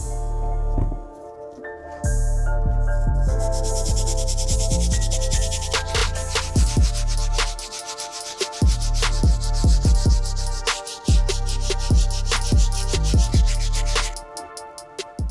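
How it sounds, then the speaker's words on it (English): Brass bristle brush scrubbing the sole toe cap of an Air Jordan Flip 3 sneaker, rapid back-and-forth scratchy strokes in close bursts with brief pauses, loud and without speech. "For the soles, we'll start off by using our Brass Bristle Brush on the toe cap area."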